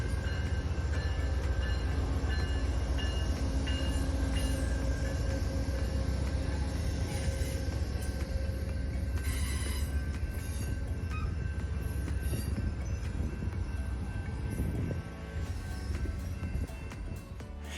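The Texas Eagle passenger train rumbles steadily between San Antonio and Dallas, rhythmic clacking of wheels on rails heard from inside the coach, easing slightly toward the end.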